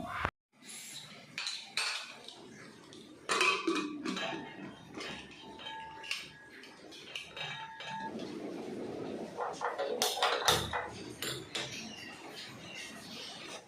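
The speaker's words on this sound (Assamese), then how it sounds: "আলু খিচখিচকৈ কুটিব ধৰিছোঁ মানে সৰু সৰুকৈ" Irregular knife clicks and clinks against a board and dishes while potatoes are chopped into small pieces, sharp little taps coming in uneven bursts amid soft kitchen clatter.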